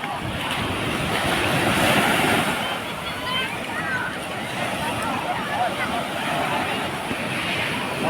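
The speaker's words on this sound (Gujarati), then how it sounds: "મોટા મોટા મોજા આવી રહ્યા છે" Broad, steady roar of big sea waves breaking close by at the Nishkalank Mahadev temple shore, mixed with gusty wind buffeting the microphone, continuous throughout.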